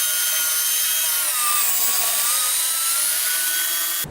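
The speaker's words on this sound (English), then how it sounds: "What I'm gonna do with the crosscut sled here is I'm gonna clean up the edges of the board." Table saw with a crosscut sled trims the edges of a purpleheart and maple board, a loud, steady high whine of the blade cutting wood that holds for several seconds and then cuts off.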